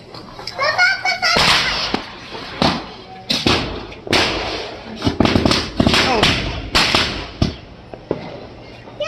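Diwali firecrackers going off at a night party, sharp irregular cracks and bangs scattered across several seconds, close and loud, with children and adults chattering between blasts.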